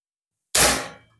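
A single sharp airsoft gun shot, the last of a test series after the unit was taken apart and reassembled to fix an odd sound and erratic accuracy; it cracks suddenly out of silence and then fades.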